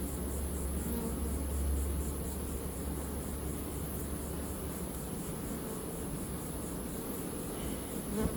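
Honeybees buzz steadily and densely close by in a sparsely populated queen-banking hive, a continuous droning hum with no voices.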